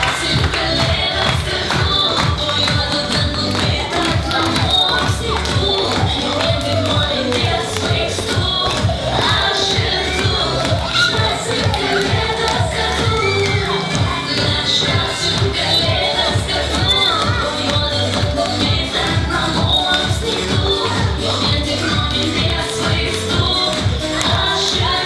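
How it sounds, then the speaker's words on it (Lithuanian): Children clapping loudly together at a Christmas Santa train event, a dense, steady patter of many hands that continues without pause, with crowd noise and some voices mixed in underneath. "Visi garsiai plojam."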